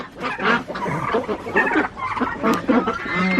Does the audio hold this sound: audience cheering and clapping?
no